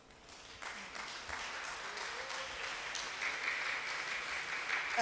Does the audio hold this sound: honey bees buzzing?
no